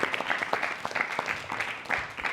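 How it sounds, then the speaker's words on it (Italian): Audience applause at a short-film festival event, dense broadband clapping with distinct hand claps, steady and close, with a faint voice underneath. "chiamo un applauso per ambo le parti"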